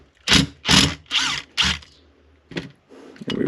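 A power driver loosens the four cover screws on a Stihl MS180 chainsaw during a teardown, whirring in four close, loud bursts, then shorter, quieter spins after a pause.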